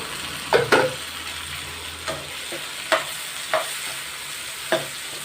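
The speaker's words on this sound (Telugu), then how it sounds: "ఇందులో రెండు టమాటాలు తీసుకున్నాను సన్నగా తరుక్కున్నాను ఇందులో వేసేస్తున్నాయి" Chopped tomatoes go into a hot frying pan and are stirred, a steady sizzle broken by several sharp scraping stir strokes at irregular intervals, close and clear.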